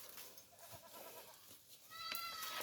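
Goats on a farm bleating faintly at a distance, a couple of short wavering calls rising over soft outdoor background noise near the end.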